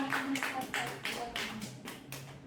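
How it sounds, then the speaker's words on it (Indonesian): A small group in an Indonesian group-guidance session claps for Tiara, a short burst of several quick, uneven rounds of applause, close and fairly soft, with a voice faintly underneath. "Tepuk tangan dulu untuk Tiara."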